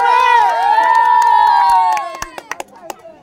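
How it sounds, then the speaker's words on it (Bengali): A crowd at a village game event cheers loudly for the first-prize winner as the prize is handed over, a sustained roar of voices that breaks off into a few scattered claps near the end. "সবাই জোরে একটা হাততালি।"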